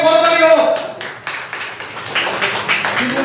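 An audience applauding dancers at an event, a scatter of claps rising after a speaker's voice, moderately loud and fairly brief, with talk at the start.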